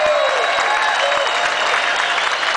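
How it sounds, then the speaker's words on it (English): Dense, steady applause from a Tea Party audience fills a hall with Governor Mark Sanford present, a broad wash of many hands clapping at once, loud and continuous throughout, with faint tonal feedback ringing above. "would you give yourselves a round of applause on that front as well?"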